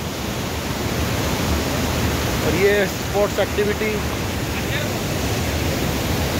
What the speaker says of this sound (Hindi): भट्टा फॉल, इसी को बोलते हैं भट्टा फॉल, ये जो मेरे को बिल्कुल पीछे है।